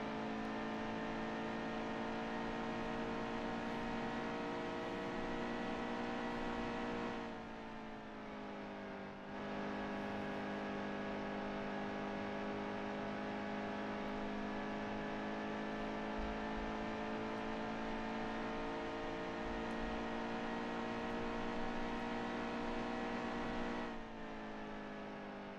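NASCAR race car engines in the NASCAR Heat 2 video game drone loudly and continuously during qualifying. The sustained high engine whine shifts pitch twice as the cars brake and accelerate again.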